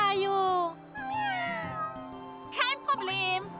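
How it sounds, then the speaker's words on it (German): Cartoon kittens in a children's animated Halloween episode mew in high, wavering cries that overlap one another, set over a soft musical backing with brief gaps between the calls. "Das sind Titis bezaubernde Kätzchen."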